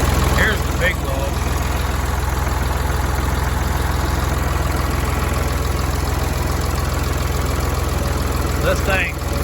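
A Ford 4610 tractor engine idles steadily with a loader on the front, a continuous low mechanical drone holding close and even throughout, with brief voices or clatter near the start and end.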